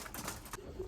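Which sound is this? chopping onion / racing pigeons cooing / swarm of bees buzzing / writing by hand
racing pigeons cooing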